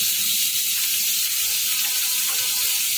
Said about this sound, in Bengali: আলুটা হালকা করে ভেজে নেওয়া হয়ে গেছে এর মধ্যে দিয়ে দেবো ডাটা আর বেগুন